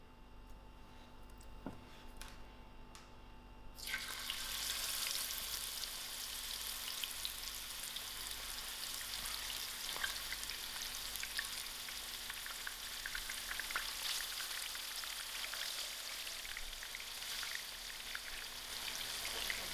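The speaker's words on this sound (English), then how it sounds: "my fish has marinated about an hour, so I'm going to fry out my fish" Marinated fish for a fish pickle frying in a pan of oil; near silence gives way to a sudden, loud, steady crackling sizzle that continues without a break, with no talking.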